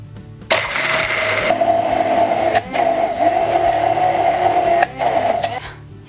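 A blender purees soaked almonds with a little water into a vegan cream, a loud steady motor whine with two brief dips in pitch before it stops.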